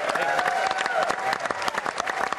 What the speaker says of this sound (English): Round of applause for Glenn Murphy, though, in the lead role.